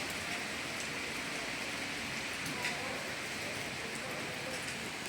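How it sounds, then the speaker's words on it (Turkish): Steady rain falls continuously, a dense hiss of drops striking surfaces at moderate volume with no pauses. "çok yağmur yağıyor"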